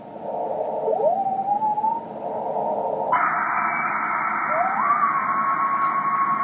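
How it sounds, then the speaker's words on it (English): A phase shift keying radio signal on the 21 MHz band hums as a steady, slightly bumpy tone over hissing static, jumping higher partway through as the receiver is retuned. "That's what phase shift keying sounds like."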